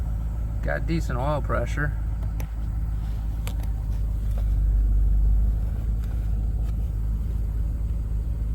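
An LS V8 engine idles in a car with low, steady rumbling throughout and a brief swell in the middle, while someone talks briefly near the start.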